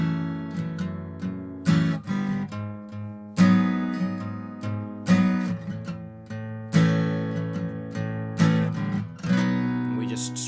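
Strummed acoustic guitar playing the bridge of a song, with steady chord strums, several accented hits and ringing sustained chords throughout, close and clear with no talking.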